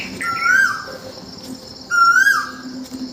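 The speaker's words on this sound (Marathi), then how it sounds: "किती प्रकारचे पक्षी ओरडतात बघा" Birds call at dawn in a village in two bursts of bright, sliding whistles with a trilling edge, over a quiet outdoor background with faint insect chirps.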